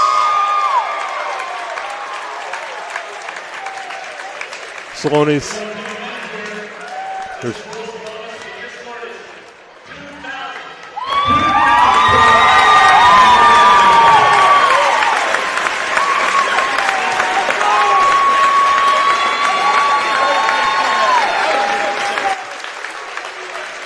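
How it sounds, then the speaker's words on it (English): Crowd applause at a Warrenton vs Wentzville Holt high school boys basketball game, traveling Holt fans and home Warrenton fans clapping together for a player's 2,000-point milestone, a loud sustained ovation building midway with an announcer talking over it. "The Holt fans who traveled, we're giving him a round of applause, as well are the well-natured Warrenton fans."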